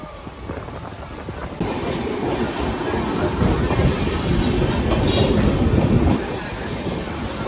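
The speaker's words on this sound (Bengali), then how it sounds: "6:48 এখন আমাদের ট্রেন ছাড়লো হাওড়ার উদ্দেশ্যে" A Panskura–Howrah local train runs toward Howrah, heard from aboard as a loud, continuous rumble with rattling wheel clatter that swells partway through.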